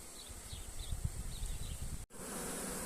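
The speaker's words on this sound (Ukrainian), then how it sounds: "Зараз буду знімати роя цього." Dense, continuous buzzing of a honeybee swarm close by, a constant droning hum with a brief dropout before it resumes.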